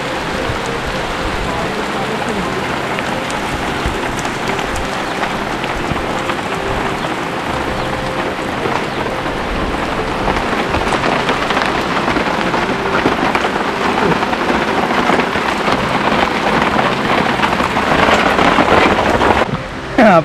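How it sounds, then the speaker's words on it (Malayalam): Heavy rain pours steadily and loudly, a dense continuous roar of drops on surfaces with a rumble of thunder or wind underneath, building slightly louder toward the end. "നല്ല ഗംഭീരമായ മഴയായിരുന്നു. ഇപ്പോഴും പെയ്തുകൊണ്ടിരിക്കുകയാണ്."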